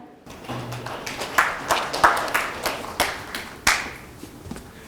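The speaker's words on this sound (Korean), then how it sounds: "큰 박수 부탁드립니다" Scattered applause from a seminar audience at a law firm's biotech event, with sharp individual claps rising and falling in uneven bursts, moderately near, after a brief low tone at the start.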